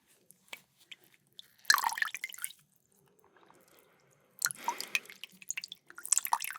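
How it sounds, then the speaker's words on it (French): Lukewarm water drips and splashes into a bowl during a facial skin-care session, in close, soft bursts of trickling and dripping with quiet gaps between them. "j'ai avec moi un bol d'eau tiède"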